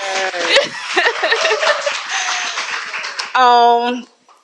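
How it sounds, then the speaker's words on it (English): An audience at a book signing breaks into a short burst of applause and laughter after a stretch of talking, then the clapping cuts off abruptly. "So clap it up for my family."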